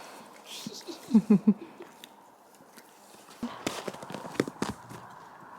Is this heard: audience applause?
no